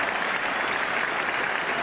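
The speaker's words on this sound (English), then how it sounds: "So the applause around the ground also for this 100 partnership." Crowd at a 1979 World Cup cricket ground, England versus Australia, applauding a hundred partnership: a dense, even roar of distant clapping that holds steady throughout, moderately quiet.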